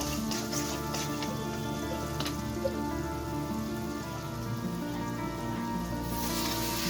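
Onion and potato fry in a pan with a soft, even crackling sizzle like light rain, running continuously with a faint tonal hum in the background.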